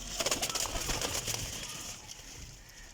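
Golden pigeons coo in soft, repeated low calls, with rustling and a faint voice in the background, fading slightly toward the end.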